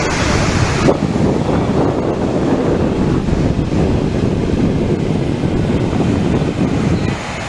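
Swollen streams in Komaram Bheem Asifabad district, overflowing after heavy rain, send floodwater rushing with a loud, continuous roar mixed with wind buffeting, steady throughout and with no talking.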